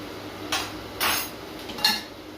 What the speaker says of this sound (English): Mix it all up. Make sure it goes everywhere.